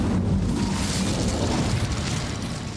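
A whooshing, booming burst of the Incendio fire spell in the video game Hogwarts Legacy, a sustained roaring blast that slowly fades.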